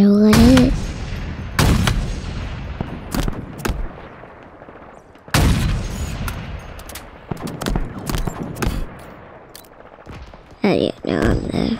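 Sniper rifle shots in the video game Halo crack out loud and close, roughly a dozen sharp reports spaced irregularly, some with ringing tails, others quick and clipped, over a low ambient game background.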